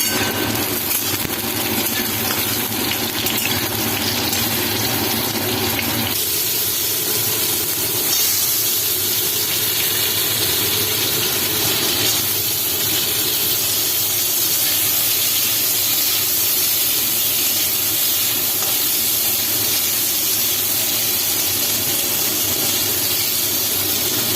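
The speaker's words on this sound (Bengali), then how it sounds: "পটল ভাজা হচ্ছে" Pointed gourd fries in a pan with a steady, loud sizzling hiss that runs without a break, softening slightly partway through.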